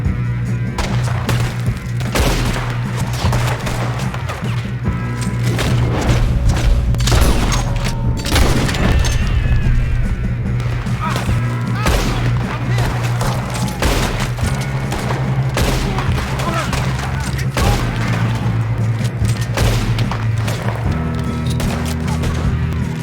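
Gunfire from the Western video game Red Dead Redemption 2: dense, repeated shots and booming blasts in a sustained firefight over a steady low hum, with a faint voice now and then.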